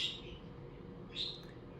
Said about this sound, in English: Birds are singing.